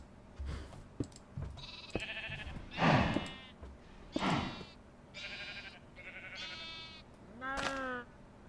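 Sheep in the TerraFirmaCraft video game bleat repeatedly, several separate short calls spread across the moment, fairly clear and close, with someone talking quietly between them.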